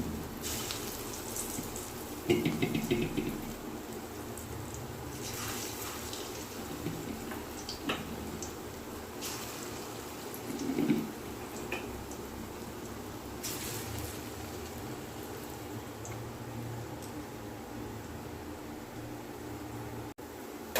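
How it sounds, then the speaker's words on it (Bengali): Jute leaf fritters sizzle in hot oil, a steady soft crackling hiss running throughout at moderate level, with a few brief louder pops and clatters near the start and middle. "তেল গরম হয়ে গেছে বড়াটা ছেড়ে দিচ্ছি"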